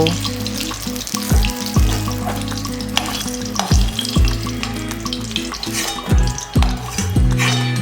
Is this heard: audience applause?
no